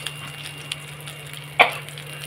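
Oil heating in a kadhai for a vegetable dish while pooris are made, a faint steady sizzle with one sharper spit partway through, heard close with no talking.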